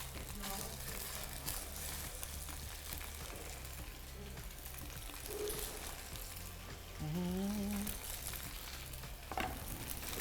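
Tofu fries in hot oil in a pan, a steady dense sizzle and crackle throughout, with brief stirring and scraping sounds midway and a faint hum underneath.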